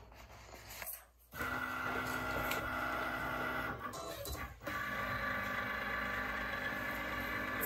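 A printer runs steadily with a mechanical hum and whir, briefly pausing twice before resuming, close by with no talk.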